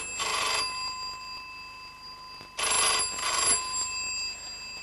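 A telephone bell rings in two bursts, a short ring followed after a pause by a longer double ring, loud and close with no talking.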